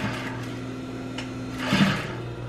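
Sewing machine back stitching the folded edge of a triangle bikini top, a steady close motor hum with a brief louder burst near the end, no talking.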